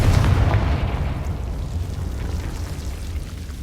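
A Confringo explosion spell cast in Hogwarts Legacy, a loud deep boom at the start that rumbles and fades slowly.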